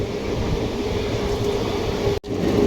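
The 12604 Chennai SF Express runs steadily on the Guntur route, a loud continuous rumble with a faint tonal whine, and a brief dropout near the end.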